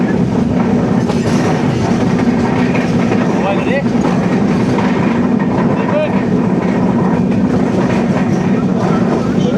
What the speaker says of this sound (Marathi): आमची मत्स्यगंधा ट्रेन जाते